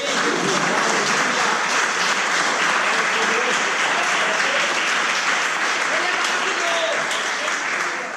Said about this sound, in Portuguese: Se coloca de pé, dá uma salva de palmas para Jesus